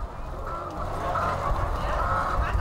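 Hens cluck and squawk at an egg-laying farm housing 20,000 chickens in Thai Binh, Vietnam, a steady, moderately loud chorus of many birds.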